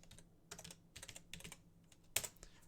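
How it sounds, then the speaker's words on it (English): Fingers tap a computer keyboard in quick irregular bursts of keystrokes, faint and close, with one sharper key press near the end. "typing it in right"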